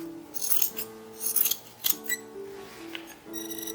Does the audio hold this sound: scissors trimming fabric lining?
yes